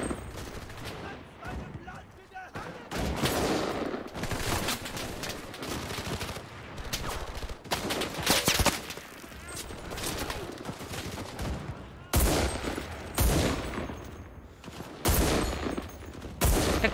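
Rapid bursts of gunfire crackle repeatedly, sharp machine-gun volleys and single shots in a chaotic battle soundscape from the video game Enlisted, loud and close.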